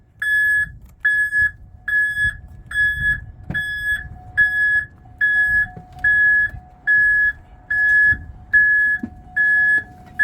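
A van's loud electronic backup buzzer beeps steadily, about one beep per second, with a faint engine idling underneath and no voices.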